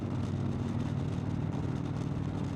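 Steady vehicle riding noise recorded on board, a continuous low engine and road rumble that stays even and close throughout, with no talking.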